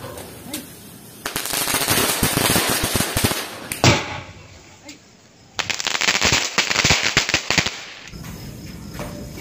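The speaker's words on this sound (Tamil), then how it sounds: "இவ்வளவு நேரம் நான் ஜாலியா பட்டாஸ் வெடிச்சதை பாத்துருப்பீங்க" Diwali flower pot firecrackers burst nearby in loud, dense crackling volleys, one long stretch followed by a brief lull and then a second sustained burst of rapid pops.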